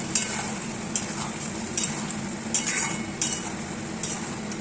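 Ginger, garlic and cumin paste sizzles in a pan with frying prawns, while a utensil scrapes and stirs in sharp, regular strokes about once a second over the steady frying hiss.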